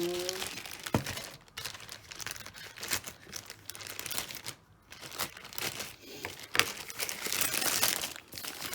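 Plastic wrapping around a craft box crinkles and rustles in irregular bursts as it is unboxed, close and fairly loud, with a person talking throughout.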